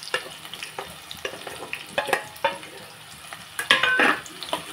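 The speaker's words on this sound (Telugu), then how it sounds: "పచ్చిమిర్చి, ఉల్లిపాయలు వేసేసుకున్నాను" Green chillies and onions sizzle and fry in a pan for a curry, with steady frying hiss broken by repeated stirring scrapes and light clinks of a utensil against the pan, close and fairly loud.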